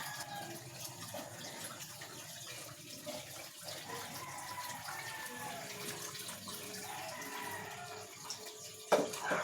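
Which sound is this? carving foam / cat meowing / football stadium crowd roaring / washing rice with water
washing rice with water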